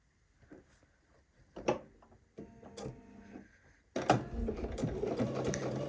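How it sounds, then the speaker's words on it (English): Home sewing machine backstitching and then running a seam down a skirt for McCall's M8361, with a few soft mechanical clicks before the motor settles into a steady, loud close-up whir. "Back stitch, and then sew all the way down to the bottom of the skirt"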